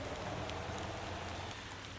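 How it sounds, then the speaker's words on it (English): Steady rain falls in the Motor Town driving game, a constant even hiss of drops on surfaces with scattered faint patters, heard alone at low volume. "Okay, short little rain shower."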